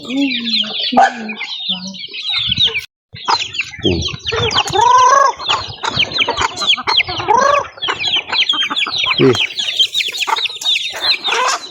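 Chickens and a rooster cluck and call over and over, fairly close, with busy overlapping bird calls on a farm and brief voices talking in between.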